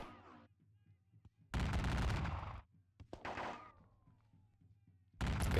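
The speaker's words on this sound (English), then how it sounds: "Shooting out skirmishers." Musket volleys from skirmishers in a Napoleonic war video game: two long, loud crackling bursts of massed gunfire and a shorter burst, with quiet gaps between and no talking.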